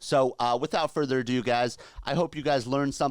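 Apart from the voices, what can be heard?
No everyday noises stand out.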